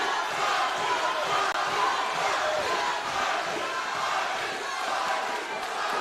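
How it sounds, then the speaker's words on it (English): Crowd at an amateur fight night chanting and yelling for their fighters, a thick, steady roar of massed voices that stays loud and unbroken. "Crowd getting involved here, chanting for their guys."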